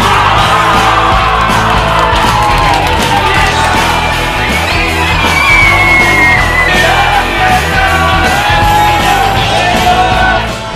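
Handball fans in Rostov cheer on the Russian women's team, a dense, loud crowd of yells and shouts rising and falling continuously for the whole stretch.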